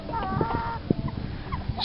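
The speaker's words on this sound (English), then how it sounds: "Yeah, chickens, they're happy." Chickens cluck softly in a pallet-built chicken coop, scattered short calls over a steady low background, fairly close and moderate in level.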